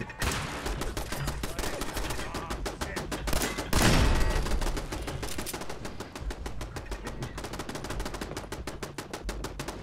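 Turrets in the video game Fallout 4 fire long rapid bursts of automatic gunfire, a dense steady rattle of shots with a louder blast partway through, and no voices.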